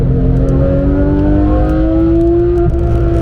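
A Porsche 991 GT3 engine pulls hard on the Nürburgring during a public driving session, its loud, close in-car roar climbing steadily in pitch for several seconds before easing slightly.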